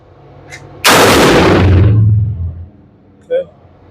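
A gun is fired during a light primer strike troubleshooting test, giving one sharp, loud blast that rings and decays over about two seconds, followed by a smaller thud; a voice speaks faintly nearby.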